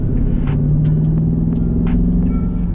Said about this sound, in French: et vous allez avoir ce son du V8 qui est un petit peu amplifié